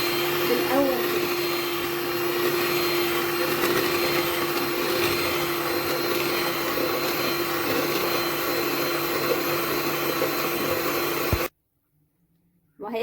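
Electric mixer beating a glass of milk for homemade ice cream, a steady whirring motor drone that runs continuously and stops abruptly near the end.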